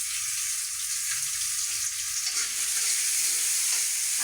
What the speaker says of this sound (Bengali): পেঁয়াজ, মরিচ, রসুন যা আছে সবটাই ভেজে নেবো